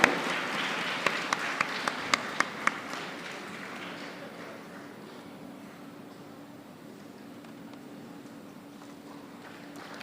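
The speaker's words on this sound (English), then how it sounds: "Let the applause continue" Audience applause at a university graduation ceremony: a few sharp claps stand out at first, then the clapping fades into a soft, sustained wash of room noise.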